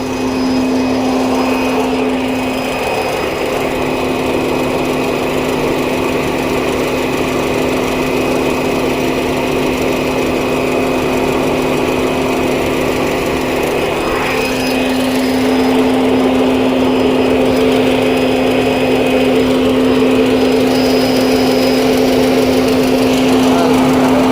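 The air conditioning blower fan of a 2007 Ford Fusion runs on high, a loud, unbroken whooshing roar with a faint steady hum that holds for the whole stretch, with no talking.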